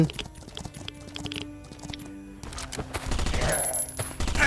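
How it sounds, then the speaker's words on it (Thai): Horse hooves clip-clop in the Last Island of Survival survival game, a quick rhythmic trotting patter mixed with gunfire-like bursts and game sounds, growing louder and busier toward the end. "นี่ขี่ม้าด้วย"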